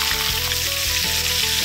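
Close, continuous sizzling of fermented sour fish frying over high heat in a pan, with a hissing crackle and no talking.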